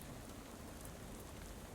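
Pouring rain in the video game Shadows of Loathing, a steady, dense hiss of rainfall at low level, continuous and even with no voices.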